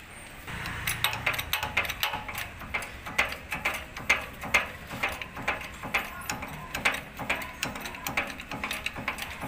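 Truck axle bearing being pressed on with a hydraulic press, heard as repeated sharp ratcheting clicks in a steady pumping rhythm, close and fairly loud, with a faint voice in the background.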